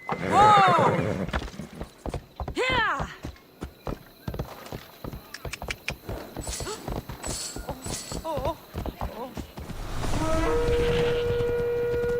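Hooves clip-clop in quick rhythm as a horse gallops in the Greek-set game Assassin's Creed Odyssey, with whinnies and occasional game sounds under a player's spoken remarks.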